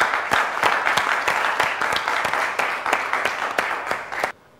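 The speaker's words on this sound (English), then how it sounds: "Big round of applause to him" Audience applause for a returning contestant on a Ugandan school quiz show, steady dense clapping filling the room and then cutting off abruptly near the end.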